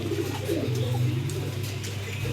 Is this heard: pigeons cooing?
yes